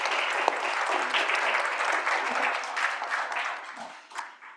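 Audience applause for a research panel on Indigenous ways of doing research, dense sustained clapping from a large crowd that holds steady and then thins out toward the end.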